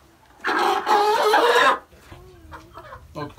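Broiler chickens cluck loudly and close for about a second, then softer clucks and a brief call follow from the large rooster and hens.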